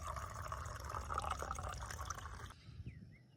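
Hot water pours and trickles from a stainless steel camping kettle for a few seconds, a close liquid splashing stream that stops abruptly, leaving faint drips.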